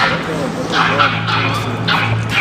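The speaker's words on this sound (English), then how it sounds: "That little dog is attacking the big dog." A small dog yips and barks in a quick, repeated string during a tense outdoor confrontation, with a larger dog nearby and people talking over it.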